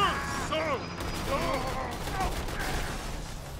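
Gunfire in the video game Borderlands 2 crackles in rapid bursts under constant game noise, with mechanical clicks and whistling effects, fairly loud throughout.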